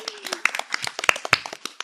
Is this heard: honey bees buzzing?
no